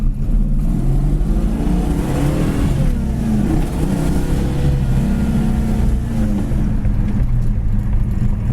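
1967 Dodge GT with a racing clutch, its engine droning and rising under load as the transmission works down into second, loud, close and continuous, with no talking.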